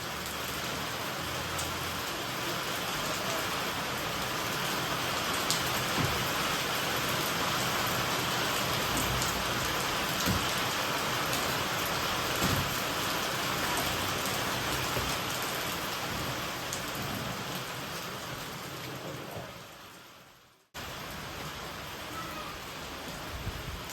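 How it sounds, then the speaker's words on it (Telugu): Steady rain falls outdoors beside a kitchen where chutney is ground in a stone mortar and rice is cooking. It is a dense, even hiss of drops on surfaces that continues for over twenty seconds, with one brief cutout near the end. "వాన అంటే వాన పడుతుంది"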